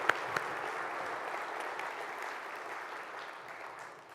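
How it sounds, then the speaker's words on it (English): An audience applauds the Georgia governor at the 2014 Georgia Logistics Summit, a dense, steady round of clapping from a large indoor crowd that slowly tapers off, with no talking over it. "Let's get another round of applause for our Governor Nathan Deal."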